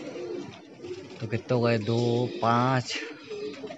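Homing pigeons coo near the coop as they return from flight, a few low throaty calls rising between other sounds, while someone talks over them.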